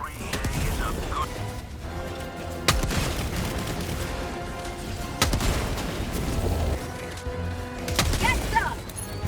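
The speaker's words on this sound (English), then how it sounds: "Firing orbital barrage." Orbital barrage strikes in Helldivers 2 land as repeated heavy booms and crashes spaced a couple of seconds apart, loud and close over dense battle noise, with voices speaking through it.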